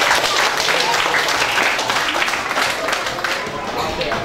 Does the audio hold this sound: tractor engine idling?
no